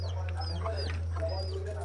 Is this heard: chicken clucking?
yes